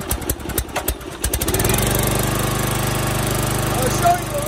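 A gasoline engine on a 35-ton log splitter starts up with choke on: a few uneven sputtering bursts, then it catches into a steady, close, throbbing idle.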